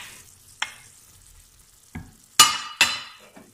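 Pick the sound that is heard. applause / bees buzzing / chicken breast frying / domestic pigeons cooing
chicken breast frying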